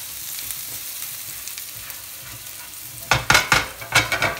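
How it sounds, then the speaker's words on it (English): Ginger, garlic and chilli warming in a pan for honey chilli chicken make a soft, even sizzle, then a run of sharp, loud scraping and clattering stirs in quick bursts toward the end. "We're going to add some of our ginger, some of our garlic, some of our chilli. Give it a wee mix."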